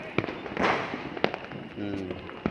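Firecrackers crack in the distance around Bhavnagar city near the sea at night, several sharp bangs spaced irregularly over steady ambient noise, with a voice speaking briefly between them.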